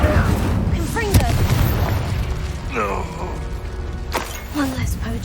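A Confringo blasting spell explodes in Hogwarts Legacy, a booming burst amid game effects and mechanical clatter, with voices speaking over the action.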